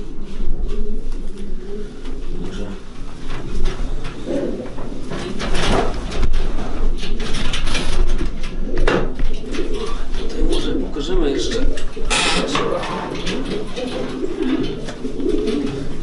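Breeding pigeons coo repeatedly in a steady, busy chorus inside a breeding loft, with wing flutters and shuffling close by, under a constant background hum.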